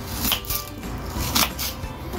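A knife chops an onion roughly into quarters on a cutting board, several sharp close thuds at an uneven pace, with no talking.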